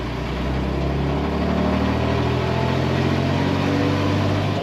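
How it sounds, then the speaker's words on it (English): A 1946 Chevrolet half-ton pickup idles steadily after starting, its hot-rod-style exhaust giving a deep, even rumble that stays loud and close throughout. "Kind of almost a hot rod sounding exhaust on this truck."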